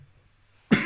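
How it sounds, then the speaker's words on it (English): A single sharp cough bursts out close to the microphone after a stretch of near silence, loud and short with a rough, breathy tail. "Cough time."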